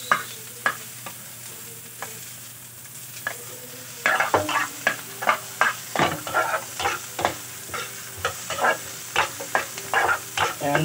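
A spoon scrapes and stirs ingredients around a pan up close, starting with sparse knocks and then settling into quick, rhythmic strokes over a faint sizzle, with no talking.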